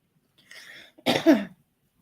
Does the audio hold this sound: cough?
yes